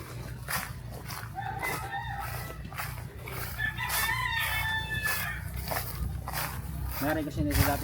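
Roosters crow and chickens cluck at a chicken run on a mountain farm while people talk over them; the birds' calls rise and fall at a moderate distance.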